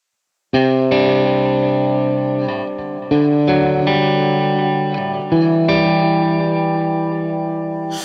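Electric guitar through a Vox AC30-style amp model playing held chords, each sounding repeats bouncing in a galloping dotted-eighth delay echo that rings out and decays between changes.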